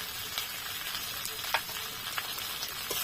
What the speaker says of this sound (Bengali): সব কিছুকে ভালো করে আবার কষিয়ে নেব